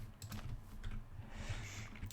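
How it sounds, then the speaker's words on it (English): Fast clicky typing on a computer keyboard, a steady patter of keystrokes close to the mic, heard alone without talk and quite faint overall. "there's also tons of clicky noises. So enjoy the keyboard thing, because I'm sure my mic will pick it up."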